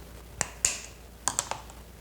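Cutters snip 24-gauge floral wire in half with a handful of sharp, dry clicks close up, spaced irregularly over a quiet background.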